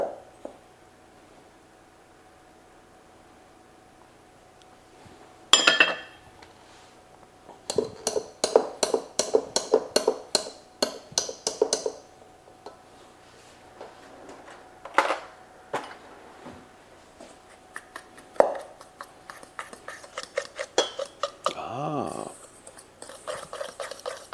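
Butter being worked into a cinnamon streusel mixture in a bowl with a utensil: close, bursts of rapid scraping clicks and clinks against the bowl, pausing between rounds, with a brief voice sound near the end.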